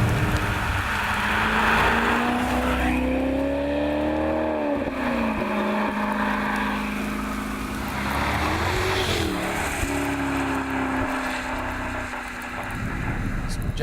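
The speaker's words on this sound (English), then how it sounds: "This Maserati is just great through the turns. With the engine mounted farther back, it turns in really well, nice and responsive, and the exhaust sounds spectacular too." Maserati GranTurismo MC engine and exhaust under load through a series of turns, a loud continuous drone whose pitch climbs and dips as the car accelerates, brakes and shifts, close and steady with no talking.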